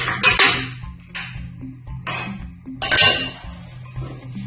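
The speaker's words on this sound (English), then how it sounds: "We're going to break in 2 eggs." Two eggs cracked one after another into a bowl of cake batter ingredients for a mango cake, giving a few sharp taps and clinks against the rim spaced across a few seconds, with no talking.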